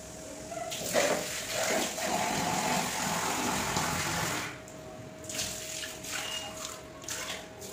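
Water rinses feet during a home pedicure with natural ingredients, a steady close rush of running water with a faint mechanical hum underneath that eases slightly halfway through, with no voices.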